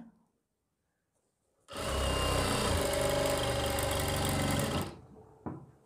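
Sewing machine stitching a front collar neck: after near silence, a close motor whir with rapid even needle clatter runs for about three seconds, then stops abruptly, followed by a brief knock.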